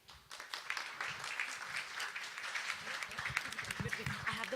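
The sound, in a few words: audience applause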